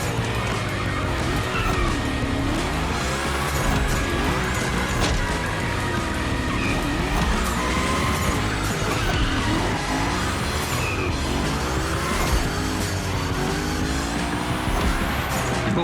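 Car drifting through big gymkhana slides in The Crew Motorfest racing game, a steady loud engine roar with tire squeal and skidding running continuously throughout, no pauses.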